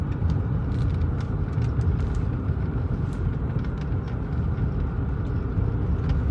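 A Lexus LS 400 V8 cruising through city streets, heard from inside as a constant low engine and road drone with no breaks, fairly quiet and even throughout.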